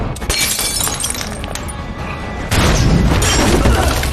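Gunfight in an action movie scene: dense, continuous bursts of gunfire with crashing, shattering impacts, loud and chaotic throughout, growing heavier in the second half.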